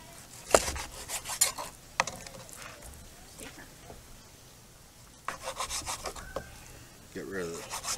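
Close-up knife cuts scraping through raw steak on a wooden board, cutting it into cubes for kabobs, a few sharp strokes and rasping slices in irregular bursts, with no talking.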